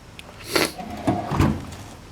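A toolbox drawer slides and bumps shut, giving a few quiet scraping rolls and two soft thuds in close succession in an otherwise calm room.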